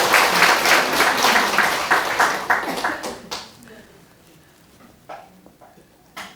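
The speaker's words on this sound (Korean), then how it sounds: "여러분은 박수를 안 치네." Audience clapping at a lecture hall talk, dense for about three seconds before thinning into a few scattered claps and fading out, with a voice faintly present.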